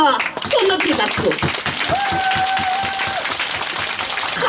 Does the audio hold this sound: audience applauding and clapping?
yes